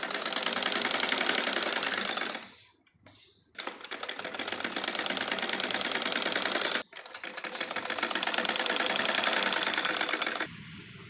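A sewing machine stitches salwar panels together in fast, even rattling bursts, stopping briefly twice before running steadily again, close and loud, with no talking.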